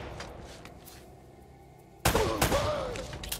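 Gunfire in the shooter game Uncharted: Drake's Fortune bursts out loud and sudden after a quieter lead-in, with sharp overlapping shots and thuds.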